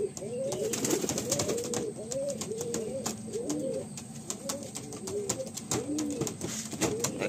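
Madrasi pigeons coo steadily in a loft, a repeated rolling call from several birds close by, with faint background hiss and no talk.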